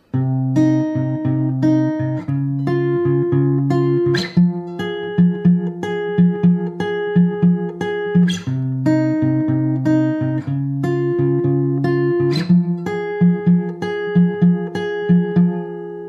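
An electric guitar strums sustained chords in a steady repeating pattern, with sharp accented hits every few seconds and clean ringing tones, no voices.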